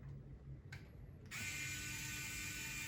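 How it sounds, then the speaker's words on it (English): A screwdriver fastens the water inlet nose onto a Saeco brew unit, with a couple of faint clicks followed by a steady close mechanical whirring buzz. "gently fixate this nose by screwdriver"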